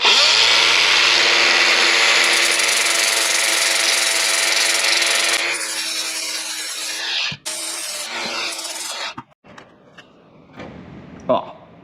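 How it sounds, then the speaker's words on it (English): Angle grinder spinning down a washer held in a spinning drill on a Mk1 Caddy project, a loud steady whine for several seconds that then winds down, followed by quieter handling clatter and a person talking. "So I've put it in the drill, got my grinder, I'm going to have a human lathe"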